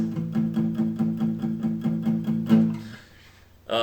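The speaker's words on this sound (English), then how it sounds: "a palm mute is this cool technique we can do on guitar to kind of make stuff sound like this" Palm-muted guitar strumming in an even pulse of chopped, damped chords, close and clear, then a final ringing stroke, a short near-silent gap and a new attack at the end.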